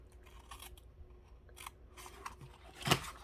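Scissors snip through paper while trimming a tail off a piece for a small 5x7 wildflower mini album, a few quiet cuts spread out and a sharper, louder snip near the end, close by with no talking.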